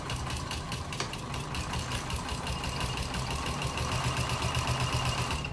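A sewing machine runs a continuous top stitch along a seam of a vinyl tote bag, a close, steady, fast mechanical chatter with a regular pulsing rhythm and no talking.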